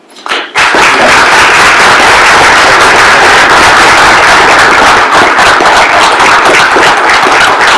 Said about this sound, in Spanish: yo pediría que inauguráramos con un aplauso a los